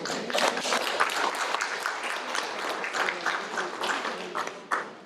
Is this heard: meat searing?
no